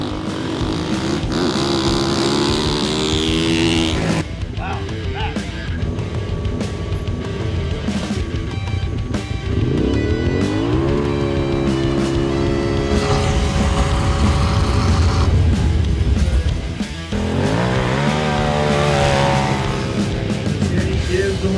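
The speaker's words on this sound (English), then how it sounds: "After the sun sets, the competition heats up with one of the Jamboree's newest events, OHV drag racing." Off-highway vehicle engines at a nighttime drag race during an offroad jamboree, revving loudly and continuously close by, pitch sweeping up and down as machines accelerate, with a brief dip before the roar resumes.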